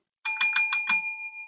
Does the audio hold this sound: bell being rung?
yes